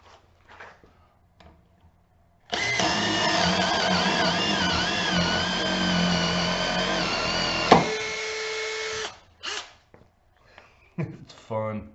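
A Makita cordless drywall screwgun with a 1/2 inch paddle drive whines loudly for about six seconds while driving screws, a steady motor hum that stops abruptly, with short clicks and handling noises before and after.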